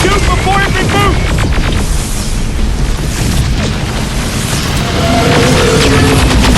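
Booming explosions and bursts of gunfire from the video game Terminator Resistance, loud and dense throughout, with a rumbling low end and a voice speaking briefly over the chaos.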